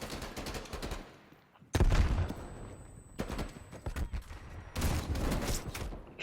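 Rapid gunfire in the Call of Duty Cold War video game, loud clusters of sharp shots and bursts over a busy game-sound background.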